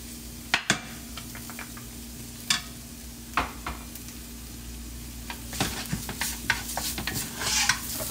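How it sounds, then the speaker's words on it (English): Onion and garlic sautéing in a pan for a pineapple shrimp curry, a steady sizzle broken by repeated sharp utensil scrapes and taps on the pan, busier stirring near the end. "I'm gonna start to mix it and kind of like saute that onion"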